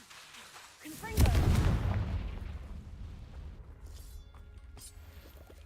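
In the Hogwarts Legacy video game, a Confringo spell sets off a single booming explosion about a second in, then fades into a long rumbling decay over faint background game sound.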